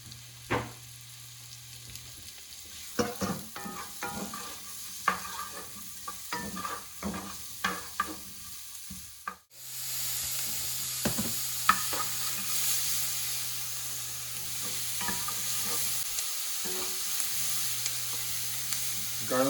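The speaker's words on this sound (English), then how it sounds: "We want to add our garlic and onions to our pan. And we're going to want to saute them until they're just starting to turn opaque." Garlic and onions sauté in hot oil in a pan: a quiet background sizzle broken by repeated clacks of stirring, then a louder, fuller frying hiss after a brief drop midway, with no talk.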